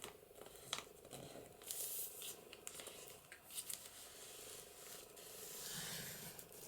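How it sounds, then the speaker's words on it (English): Paper on an envelope side pocket of a junk journal is burnished down by hand, producing soft, close rubbing and scraping strokes in irregular bursts, faint and alone. "Let's burnish that down a bit."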